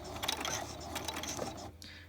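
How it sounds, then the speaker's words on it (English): A sewing machine sewing a few forward stitches before a reverse stitch, giving a brief, faint mechanical whir and clicking of the gears that stops near the end. "So I'm going to come forwards for roughly 3 stitches."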